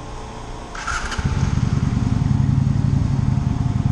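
Idling engine of a Honda Shadow-style custom motorcycle at a fuel stop, a steady low rumble with a quick rev as it settles into a loud, close, pulsing idle.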